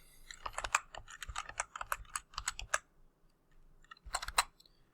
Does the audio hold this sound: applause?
no